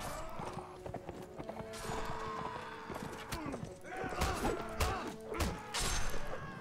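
Horse hooves clip-clop in a gallop during a Mount & Blade Warband battle charge, rhythmic and close, mixed with clashing impacts and thuds, with a voice talking over it.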